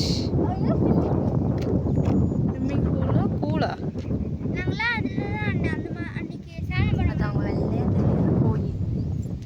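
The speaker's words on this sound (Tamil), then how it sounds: "அந்த அளவுக்கு காத்து அடிக்குது" Strong wind buffets a microphone on an open green hillside, a steady loud roar and rumble throughout, with someone talking over it.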